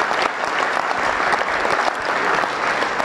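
An audience claps steadily and loudly throughout, a dense wash of applause with no talking over it.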